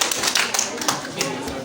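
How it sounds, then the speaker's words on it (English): Students clapping for the sisters during a school visit, a loose run of sharp claps of uneven rhythm, with voices mixed in. "Please clap for the sisters."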